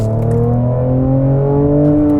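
A 2019 Mercedes-AMG C43 wagon with a twin-turbo 3-liter V6 accelerates hard, its engine note rising steadily and continuously in pitch as it pulls through the revs, heard from inside the car without talk.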